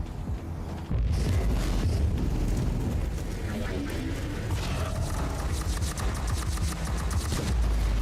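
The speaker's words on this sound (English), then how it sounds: "Ah, the grenades." Grenades go off in the video game Warhammer 40K: Inquisitor - Martyr. A sudden loud blast arrives after a quiet start, then a sustained rumble with crackling gunfire and booming detonations continues to the end.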